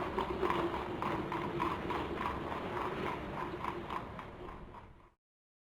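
A tonga horse cart rolls along with a brisk, steady clip-clop of hooves mixed with creaking, rattling wheel and cart noise, loud and close, then cutting off abruptly near the end.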